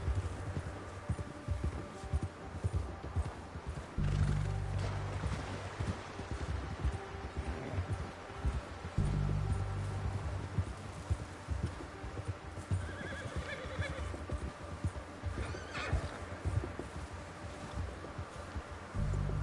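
Horse neighs and whinnies over steady clip-clop of hooves in the video game Red Dead Redemption 2, with continuous background game ambience and no speech.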